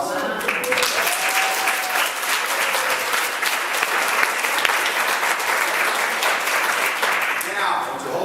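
An audience applauding at a presentation, loud sustained clapping filling the whole stretch evenly, with a voice faintly heard over it.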